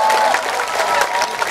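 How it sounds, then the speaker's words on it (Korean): Audience clapping at an outdoor summer festival concert in Yangsan, a short, dense burst of applause with crowd noise close to the mic. "여러분 큰 박수로 감사합니다"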